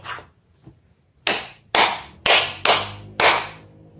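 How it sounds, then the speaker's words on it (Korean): Children at a church school service clap their hands five times in unison. The loud, evenly spaced claps ring out in a reverberant room after a couple of faint taps. "우리 친구들 박수를 5번 쳐보세요."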